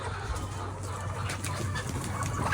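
Layer hens cluck and murmur in a dense, steady chorus over a low background hum, with no talking.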